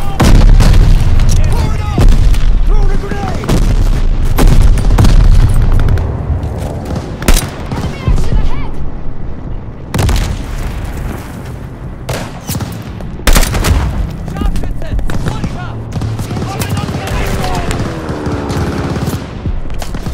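Artillery fire and explosions in the video game Vanguard, with loud booming blasts, bursts of rapid gunfire and heavy rumbling impacts throughout, while voices shout and talk over the battle.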